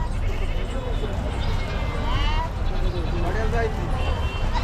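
Osmanabadi goats bleat among the crowd at a big Saturday goat and sheep market in Chakan, Maharashtra, with repeated wavering calls rising over steady crowd noise while someone talks nearby.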